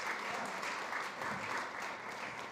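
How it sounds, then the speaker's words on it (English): A food summit audience at SXSW claps as speakers leave the stage, producing steady, full applause at moderate volume with no break. "Round of applause as they exit, please."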